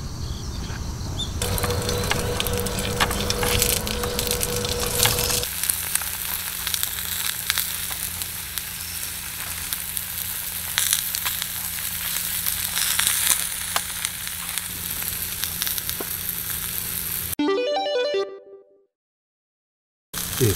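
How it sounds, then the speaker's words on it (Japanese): An egg frying in a pan on a cooker run from an Aiper Discoverer 1200 portable power station, a loud steady sizzle that goes on for a long stretch before cutting to near silence. "ポータブル電源で目玉焼きを焼いてですね"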